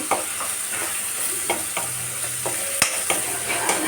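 A spoon stirs dried prawn curry in a pan, with tomatoes and chilli powder in it. Soft scraping strokes and light clinks repeat over a low, steady sizzle. No one speaks.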